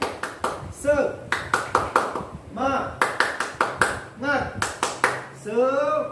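Rhythmic hand clapping during a teacher's online class session, sharp claps in repeated short patterns with pauses, interleaved with a speaking voice chanting between claps.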